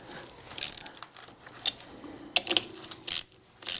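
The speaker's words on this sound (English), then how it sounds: "we're gonna take a wrench and tighten them up the rest of the way" A ratcheting wrench tightening nuts on a front coilover spacer for a 2022 Toyota Tundra lift, several short metallic clicking bursts in close, uneven spurts, with no talking.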